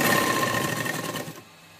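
A sewing machine stitches burqa fabric in a loud, fast, continuous whir that slows and stops near the end.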